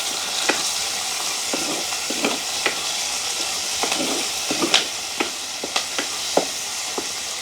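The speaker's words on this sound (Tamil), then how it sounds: "இப்படியே வதங்கி கொண்டு வரட்டுக்கு" Onion, green chili and tomato sauté in a pan with a steady close sizzle, punctuated by repeated scraping clicks of a spoon stirring against the pan, with no talking.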